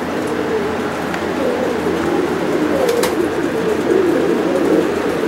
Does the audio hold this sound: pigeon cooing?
yes